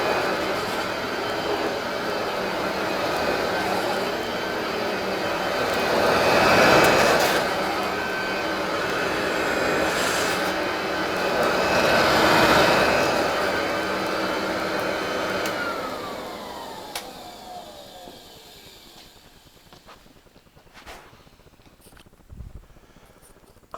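A 1949 Apex Model 601 upright vacuum cleaner runs with a steady, fairly quiet motor whir that swells twice. It then winds down and fades away near the end, with a few faint knocks after.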